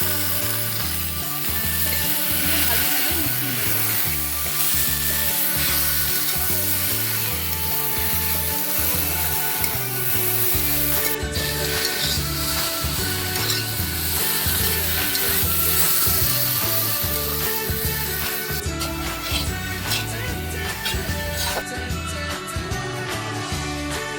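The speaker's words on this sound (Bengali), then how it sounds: "এখন আমি সেদ্ধ করে রাখা আলু এবং মোচা একসঙ্গে দিয়ে" Boiled potato and banana flower cook with spices in a pan, a steady close sizzle with scraping and rubbing sounds from stirring running throughout, no voices.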